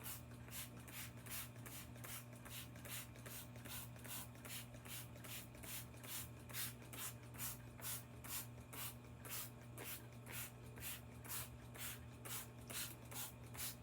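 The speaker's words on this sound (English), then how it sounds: "Take our spray bottle" Rapid, regular spritzes of a spray bottle misting soil repeat throughout, each a short hissy burst, close and fairly quiet over a low steady hum.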